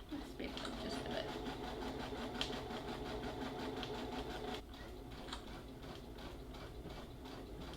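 A sewing machine stitches a fabric Halloween bucket with a rapid, steady mechanical whir of needle strokes. It runs continuously, then eases slightly in loudness partway through, and faint background sounds sit beneath.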